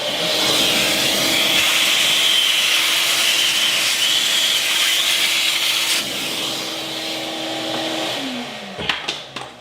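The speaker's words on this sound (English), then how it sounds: "I like cleaning this up with my vacuum" A vacuum cleaner drones loudly and steadily while its brush nozzle scrubs and rubs over car interior surfaces, then the motor winds down near the end, followed by a few clicks.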